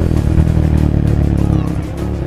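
A freshly washed motorcycle ridden on the road, its engine giving a steady, close, loud rumble with rushing wind noise throughout.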